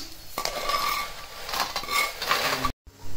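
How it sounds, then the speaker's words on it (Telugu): Curry leaves are dry roasted in a pan without oil, with continuous scraping and rustling as they are stirred, a few light clinks of utensil on metal, and a brief dropout near the end. "ఇప్పుడు మనం ఇదే ప్యాన్లో ఆయిల్ లేకుండా కరివేపాకు కూడా వేయించుకుందాము"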